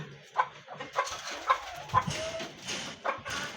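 A brooding hen clucks in short, repeated bursts while being fed, over a steady rustling background, fairly close and moderately loud.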